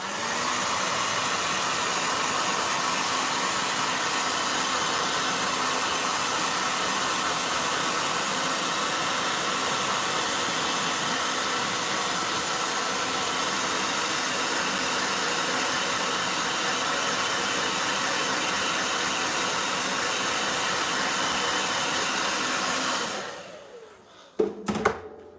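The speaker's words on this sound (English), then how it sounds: "Blow dryer." Blow dryer running steadily at close range, a loud constant whooshing hiss that holds for over twenty seconds before switching off and giving way to a few faint handling knocks.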